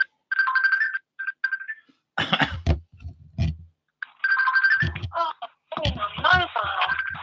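Facebook Messenger call ringtone chiming in repeated melodic bursts with gaps, loud and close, while voices talk between and over the rings.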